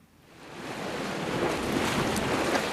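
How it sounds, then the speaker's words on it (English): Surf washes onto the shore along the northern coastline of the Isle of Sheppey, a steady broadband rush that swells in over the first half second and then holds, with wind buffeting the microphone and no voices. "Waves lapping the shore on the Isle of Sheppey's northern coastline"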